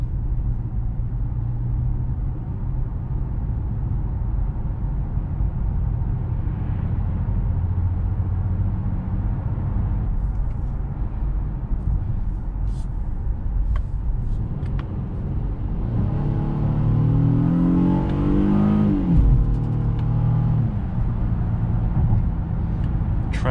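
A 2021 Honda Passport SUV accelerates on the road with a steady low engine rumble and road noise, and its engine note dips and rises again as the transmission shifts up, heard from inside the cabin.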